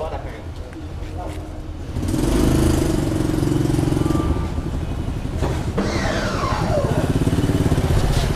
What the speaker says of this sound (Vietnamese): lại cho xe rác qua